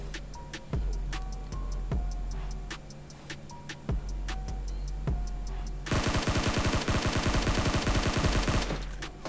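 Gunfire in the mobile battle royale game PUBG Mobile: single loud shots at first, then a dense, rapid automatic burst for about three seconds, with no voices over it.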